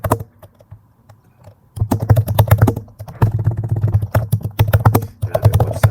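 Rapid, uneven clatter of keys on a computer keyboard as a prompt for a Laravel blog website is typed, starting softly then becoming loud and busy in close, continuous bursts with brief pauses; no one speaks.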